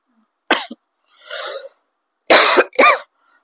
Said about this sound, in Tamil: அடிக்கடி இருமல் வருது திடீர்னு போன மாதிரி.